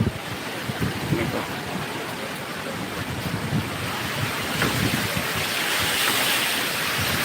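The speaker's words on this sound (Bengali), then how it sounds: "বৃষ্টি দারুণ বৃষ্টি হচ্ছে এবং হাওয়া দিচ্ছে সাথে ঝড় হচ্ছে" Heavy rain and gusting wind in a storm at Bongaon railway station, a dense, steady roar of falling water with rumbling wind buffeting the microphone, loud and unbroken throughout.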